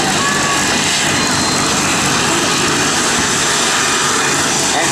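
Airplanes take off at a military air show, a loud, continuous engine roar filling the whole stretch without pause.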